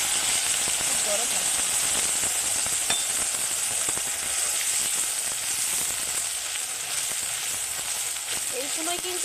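Chicken fries in a pan over low heat for a Bengali kosha-style dish, giving a steady, close sizzle with scattered crackles and light stirring clicks that continue throughout.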